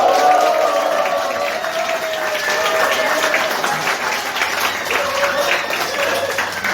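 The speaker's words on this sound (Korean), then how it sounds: "여러분의 뜨거운 박수와 함성으로 시작하도록 하겠습니다" Democratic Party members applaud and cheer at the opening of a Gyeongbuk party meeting in a conference room: steady, dense clapping from a crowd throughout, with scattered shouts and voices mixed in.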